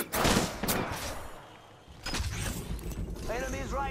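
Apex Legends firefight: sharp gunshot bursts and bangs at close range mixed with mechanical clacks and rattles, loud and busy, with brief game voice lines in between.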